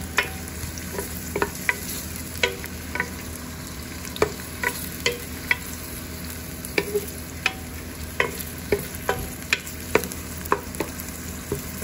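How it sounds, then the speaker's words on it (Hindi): Onions sizzle steadily in a hot pan while a utensil stirs and scrapes in quick, regular strokes. "अब इसमें हम डालेंगे प्याज जी, प्याज डालेंगे, इसे हम ब्राउन करेंगे।"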